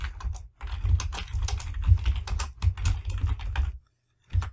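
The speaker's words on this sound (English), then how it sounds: "We're going to type in our description." Steady typing on a computer keyboard, a close run of quick key clicks with small pauses, stopping briefly before a few final keystrokes.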